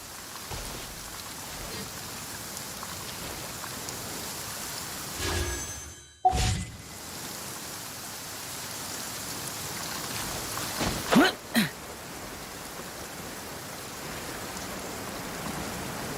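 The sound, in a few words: rain falling in Genshin Impact video game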